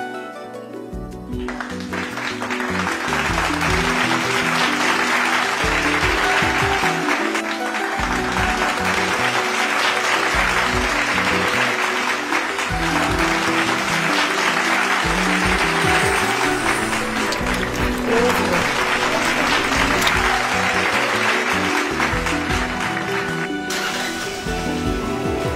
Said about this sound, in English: stopping whatever we are doing every 6 p.m. to clap for these frontline soldiers